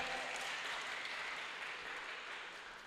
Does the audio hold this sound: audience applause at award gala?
yes